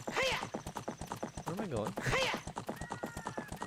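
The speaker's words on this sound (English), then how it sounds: "We're just exercising the horse." Rhythmic clip-clop of horse hooves in the Ocarina of Time video game, steady repeated hoofbeats with a couple of neighs, while someone talks over them.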